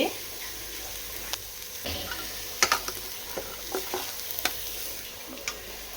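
Grated coconut fries lightly in a pan with a faint, low sizzle, while a utensil stirs it in occasional soft scrapes and light taps.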